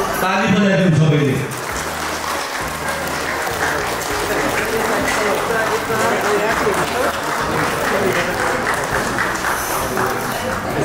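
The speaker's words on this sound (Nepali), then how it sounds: "ताली बजाइदिउँ सबैले" A crowd claps together in a steady, sustained round at a 50th wedding anniversary celebration, the applause rising just as a voice on the microphone finishes and then continuing evenly to the end.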